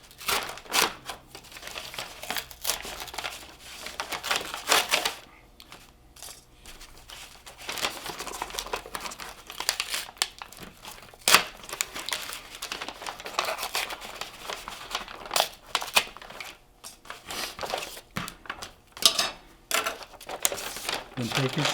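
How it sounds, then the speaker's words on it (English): A plastic shopping bag crinkles and tears as its handles are pulled off, with rustling and ripping bursts close by running under steady talk throughout. "take a shopping bag and pull the handles off"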